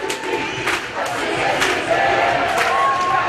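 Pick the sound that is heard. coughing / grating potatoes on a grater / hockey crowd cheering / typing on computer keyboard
hockey crowd cheering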